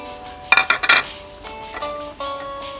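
Metal clinks of a ladle stirring Thai-style village chicken soup with spring onion and coriander in a pot, a quick burst of close scraping knocks followed by a quieter simmering hum, no talk.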